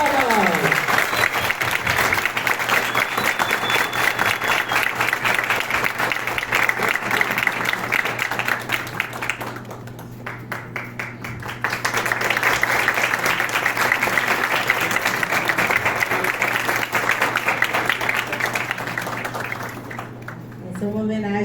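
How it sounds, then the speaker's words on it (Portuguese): A community crowd applauds an honoree called to the stage during a folklore week celebration in Santa Cândida. Steady, dense clapping fills the room for about twenty seconds, with a brief lull midway and a low hum beneath. "Uma salva de palmas!"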